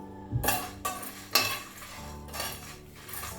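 A spoon stirs dried red chillies in a dry pan over a low flame with no oil, making soft clinks and scraping strokes against the metal at a slow, irregular pace, quiet and close.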